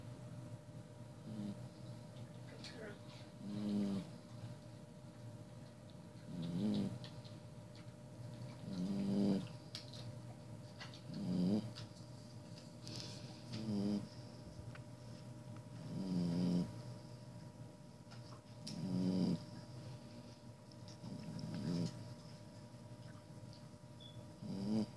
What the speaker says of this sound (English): Snoring like a person.